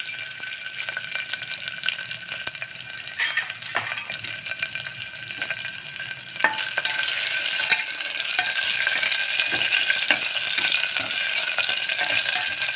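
Garlic cloves and ginger fry in a pan, a steady broadband sizzle with occasional stirring scrapes and clinks, the frying growing louder and denser partway through; no talking.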